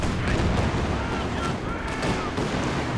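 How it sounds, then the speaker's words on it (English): A Katyusha rocket strike lands in the WWII strategy game Company of Heroes 2, with rockets whining overhead amid a loud, continuous rumble of artillery booms and scattered gunfire. "The Katyusha strike."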